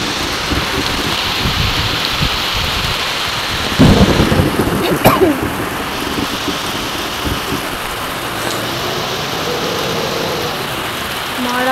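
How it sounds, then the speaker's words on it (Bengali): Torrential rain from Cyclone Montha roars continuously, broken by a sharp, loud thunderclap near the middle that rumbles away, with gusty wind in the background. "মারাত্মক বৃষ্টি পড়ছে প্রচুর, আবার হাওয়া দিচ্ছে, দমকা হাওয়া"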